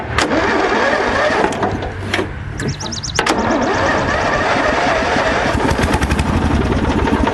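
A small gasoline engine that leaks oil cranks and catches after a brief sputter, then runs loudly and steadily up close with a raspy mid-pitched drone, with no talking.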